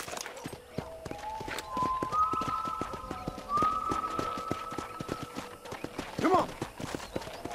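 Horse hooves clip-clop at a steady walking rhythm in Red Dead Redemption, close and fairly loud, with a whistle-like tone and a brief whinny partway through while a voice talks over them.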